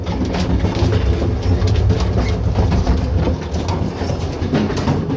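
A moving Trans-Mongolian train heard from the gap between carriages, where it is freezing. A loud, dense rumble fills the clip, with rattling and rhythmic clatter throughout and no voices.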